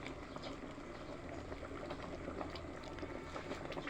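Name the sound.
bamboo shoot curry boiling in pot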